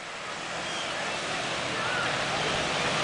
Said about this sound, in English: look at the waves coming up